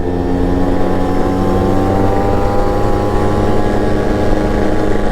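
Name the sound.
Yamaha RXZ motorcycle engine with chamber exhaust riding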